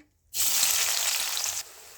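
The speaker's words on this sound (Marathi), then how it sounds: "कढई तापलेली आहे, त्यात टाकू आपण कांदा." Chopped onion drops into a hot kadai for a chole masala gravy, bursting into a loud, close sizzle that holds steady for over a second before easing to a quieter hiss.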